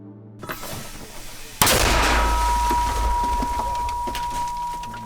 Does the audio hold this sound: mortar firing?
yes